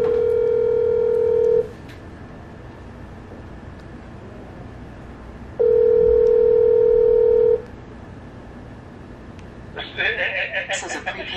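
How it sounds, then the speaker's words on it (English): Telephone tones on a prepaid call line: a steady dial tone sounds twice in long flat bursts separated by a quiet gap, followed by a short burst of busier, brighter tones at the end, with faint background noise throughout. "I'm gonna try to call him back one more time."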